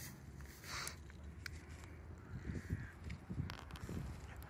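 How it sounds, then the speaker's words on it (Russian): A flock of crows cawing loudly outdoors, harsh calls repeating at mid distance over a steady background of wind and ambient noise, with a few louder bursts toward the end. "Просто куча ворон. Очень громко кричат."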